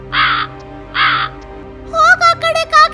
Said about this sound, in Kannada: ಶೂ ಶೂ, ಹೋಗ ಆ ಕಡೆ ಕಾಗೆ, ಹೋಗ ಆ ಕಡೆ